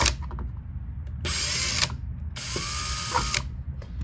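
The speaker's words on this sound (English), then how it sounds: "it's just a matter of coming in and drilling the mount hole." A power drill bores a mount hole through a fiberglass fairing for a Honda NSR50 minibike, two loud whirring bursts of about half a second and one second with a brief pause between, over low workshop rumble.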